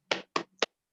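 A class group performing the 'tepuk semangat' clap pattern, three sharp, close hand claps in a quick uneven rhythm, the last one slightly separated, with silence after.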